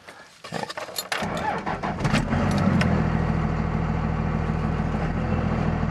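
A warmed-up Cummins diesel engine starts after a few clicks and rattles, then settles into a steady, loud, close idle rumble that holds to the end.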